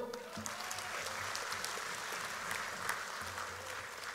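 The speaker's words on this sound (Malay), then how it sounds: "Tepukan untuk Johor." An assembly audience at a UMNO gathering claps for Johor, a faint, even wash of applause sustained for a few seconds with a low hum beneath it.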